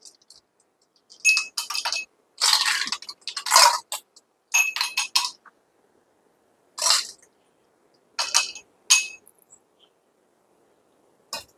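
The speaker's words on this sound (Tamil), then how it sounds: "இதில் வந்து நான் ஐஸ் க்யூப்பை போடுறேன்" Ice cubes drop into a glass for lemon juice with sabja seeds, giving several loud, close clinking and rattling bursts separated by short silent gaps.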